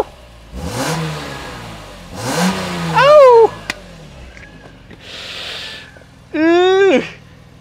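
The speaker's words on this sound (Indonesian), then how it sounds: "Tone-nya tuh beda dengan E30, dia udah lebih halus ya karena dia 6 silinder dan lebih garing." A BMW M3 six-cylinder engine is revved in several throttle blips, each climbing sharply in pitch and falling back. The blips are loud and close, and the engine idles between them.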